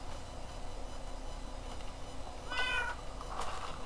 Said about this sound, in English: Meow, meow indeed.